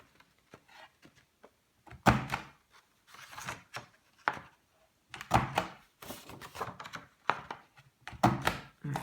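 A corner rounder punch on an envelope punch board rounds off paper corners, heard as a series of close, sharp thunks and clacks in irregular clusters against a quiet background.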